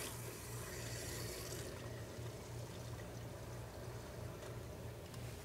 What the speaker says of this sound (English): So when I open this valve, our fluid's going to come in, and it's going to help purge the air out of our volute.